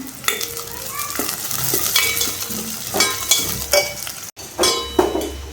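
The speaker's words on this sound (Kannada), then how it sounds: "ಹಸಿ ಹಸಿಮೆಣ್ಸಿನ್ಕಾಯಿ ಹಾಕ್ಕೊಂಡೇನು ಚೆನ್ನಾಗಿ ಫ್ರೈ ಮಾಡ್ಕೊಳ್ಳೋಣ" Green chillies frying in a pan, a bright continuous sizzle broken by repeated stirring scrapes and taps of a spatula, close and fairly loud.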